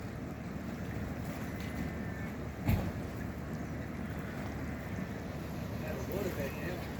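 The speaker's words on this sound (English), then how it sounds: "A raging river." A flooded creek in the Pilbara runs as a raging river, a steady broadband roar of rushing water with wind buffeting the microphone and a brief thump partway through.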